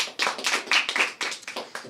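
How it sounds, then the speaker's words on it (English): A small audience claps at a recording and production listening party, a few hands giving quick, uneven, moderately close claps for about two seconds. "You can clap for him."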